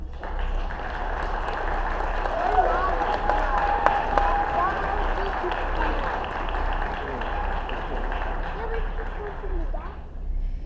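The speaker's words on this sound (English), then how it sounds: "Please take a moment to recognize your faculty with a round of applause" Applause for faculty at a nursing pinning ceremony, a steady wash of many hands clapping at moderate level throughout, with a low hum underneath and some voices mixed in.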